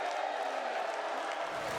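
A large crowd at the opening of the mayors' march in Brazil roars with a dense wall of booing voices aimed at Lula, loud and sustained with no pauses.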